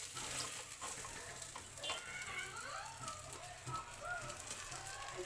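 Fish heads and pieces fry in hot oil with a faint, steady sizzle and crackle while a person talks over it.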